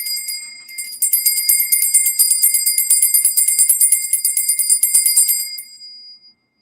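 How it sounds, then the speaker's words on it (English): A small bell rings rapidly and repeatedly for several seconds, bright and close, then trails off into silence. "Let's ring the bell."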